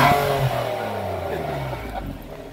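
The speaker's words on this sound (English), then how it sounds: "Just put it on sport mode. Hit the gas like this." A 2018 Nissan Maxima Platinum in sport mode revs through its mufflers, a mid-pitched engine rising then slowly falling away, fairly close and steady, with no talk over it.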